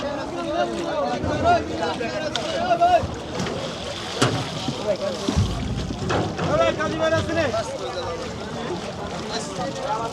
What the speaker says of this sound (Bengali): দর্শক দেখতে পাচ্ছেন আরেকটা নৌকা চলে আসছে